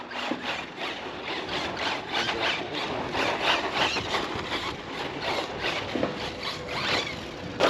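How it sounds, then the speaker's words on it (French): A brushless 1/8-scale NXT RR 2021 RC buggy on loose hobby tyres runs laps on the Béziers RC track, its electric drivetrain giving steady raspy whirring and scraping bursts as it passes, at moderate distance with no voices. "Et donc les premiers tours de roue avec le NXT RR 2021"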